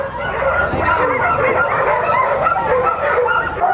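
Sled dogs running ahead of a cart bark, yip and whine excitedly in a dense, continuous chorus close by, loud and overlapping throughout.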